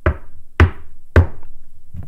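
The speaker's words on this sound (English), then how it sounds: "Hagrid raised a gigantic fist and knocked 3 times on the castle door." Three heavy knocks on a castle door, evenly spaced and loud and close, each a booming thud with a brief ring, followed by a fainter fourth tap.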